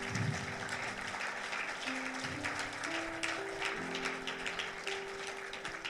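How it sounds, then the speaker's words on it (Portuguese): Church congregation clapping together, a continuous wash of hands over sustained keyboard chords, steady and moderately distant throughout. "Dá uma salva de palmas a Ele."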